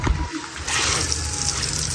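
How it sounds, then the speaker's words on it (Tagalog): Water from a shower at a poolside shower area of a house pours and splashes steadily, a loud continuous hiss with a brief dip near the start and faint background activity. "Gumagana na yan ba yung shower dito?"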